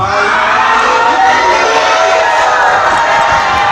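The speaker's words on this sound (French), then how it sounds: "Est-ce que toute l'église peut se tenir debout pour crier Alléluia?" A church congregation shouts loudly together, a dense sustained roar of many voices that stays strong and steady throughout, close and loud.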